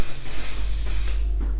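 Loud, close hiss of a Patrick Starrr One/Size aerosol setting powder spray, one continuous burst lasting over a second before tapering off, with no talking over it.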